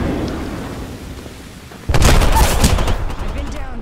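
Frag grenade exploding in the Apex Legends battle royale game, a sudden loud broadband blast that hits abruptly and rumbles on with crackling debris over a quieter ambient bed beforehand.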